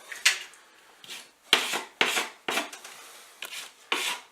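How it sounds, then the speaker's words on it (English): A small knife scrapes filler off painted boards in about eight short, rasping strokes at an uneven pace, close and clear with no voices. "Put on enough, scrape it off."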